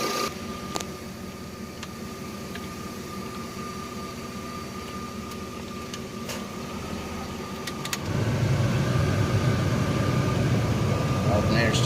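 A 1993 Chevy S10 with a 4.3 engine idles low at about 500 RPM after a bad alternator is replaced, a steady close hum that jumps to a louder, fuller roar partway through once the AC fan kicks in.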